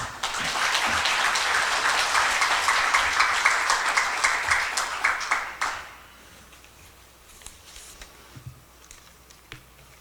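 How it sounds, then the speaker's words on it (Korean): An audience at a Daegu local council academy gives strong, dense applause to welcome the city council chairman. The clapping cuts off after about six seconds, leaving a quiet room with scattered faint taps. "이만규 의장님을 큰 박수로 모시겠습니다"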